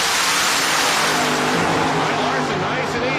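A nitro funny car engine roars loud and close through a drag racing run, its raw, steady bellow sustained throughout with a slight fading toward the end, while an announcer talks over it.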